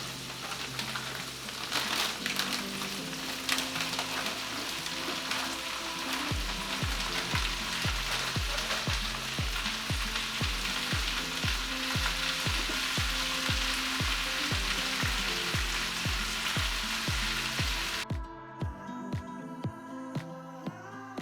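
Vegetables sauté in a skillet for a deluxe chicken stir fry, a steady loud sizzle running throughout with rhythmic stirring scrapes partway through, then the frying drops away near the end.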